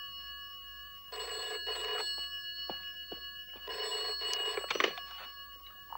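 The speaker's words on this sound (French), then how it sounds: "téléphone!" An old-style telephone bell rings in two loud bursts with a brief gap between them, heard close and clear in an indoor setting from a late-series television episode.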